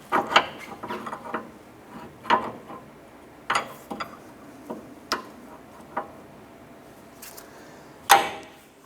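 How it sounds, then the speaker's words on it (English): Metal wrench working a jam nut loose on a 2008-2012 Honda Accord outer tie rod, giving irregular sharp clicks and light ratcheting ticks over faint workshop background, no talking. "Now the jam nut right here, when you're going to use our 24mm wrench,"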